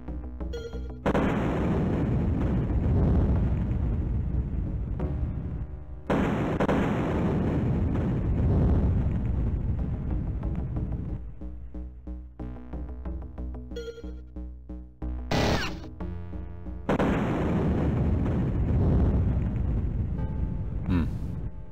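Loud booming blasts from bombs in the Syndicate video game, several separate explosions each followed by a rumbling tail, with short gaps and a sharp burst near the end.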